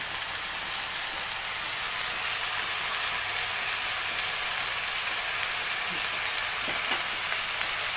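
Garlic and ginger fry in a pan with spices, giving a steady, soft, continuous sizzle and crackle close by with no talking over it.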